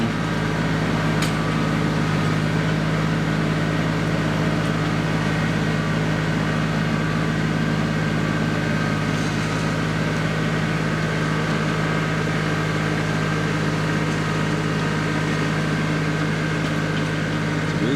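A tractor engine runs steadily through the whole stretch while a food plot is dug and dragged, a constant loud mechanical drone with a strong low hum and no breaks.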